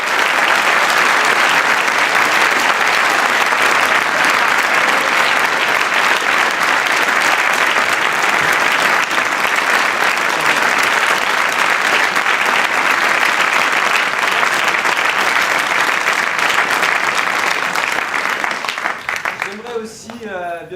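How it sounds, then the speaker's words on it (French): Sustained applause from a theatre audience at a performance of a pastoral play, dense steady clapping filling the room for about twenty seconds before easing slightly at the end. "j'aimerais vraiment qu'on partage les applaudissements avec elle."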